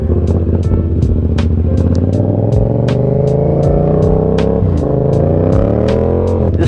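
Yamaha FZ-07/MT-07 motorcycle engine running close by on a cold night, a steady loud drone with rising and falling pitch as the revs climb and settle, and sharp ticking clicks sounding over it at regular intervals.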